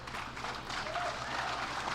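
Applause from a crowd, a dense steady wash of clapping that holds evenly throughout at moderate loudness, with no clear speech.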